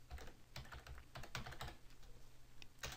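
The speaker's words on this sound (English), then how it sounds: "I'm going to type in there the word hardware" Quiet keystrokes tap out a short word on a computer keyboard, a brief irregular burst of close clicks in a spreadsheet tutorial.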